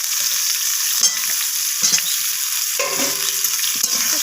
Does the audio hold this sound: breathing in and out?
no